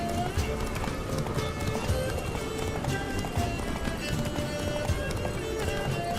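A horse gallops in the video game The Witcher 3, rapid hoofbeats thudding steadily and close under a voice talking over the pounding rhythm.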